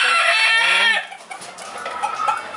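A silkie chicken clucks and crows loudly at close range in a short drawn-out call that fades into softer background sounds at a floating market.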